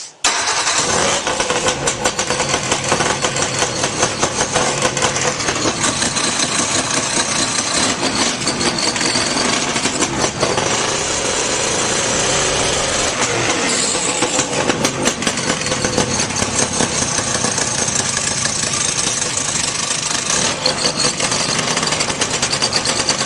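A vintage snowmobile engine runs steadily after starting, a loud, continuous mechanical roar with a rough, rattling texture that holds throughout with slight surges of throttle.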